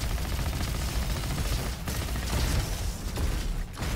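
Rapid Raptor SMG fire in the video game Roboquest, with explosive bursts mixed in, forms a dense continuous barrage of shots and blasts that stays loud throughout.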